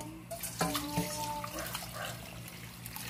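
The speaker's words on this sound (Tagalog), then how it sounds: "Bigas, tapos tubigan na natin." Water pours from a tap onto uncooked rice for arroz caldo, a steady splashing stream that runs close and continuous, with a few clinks of the pot near the start.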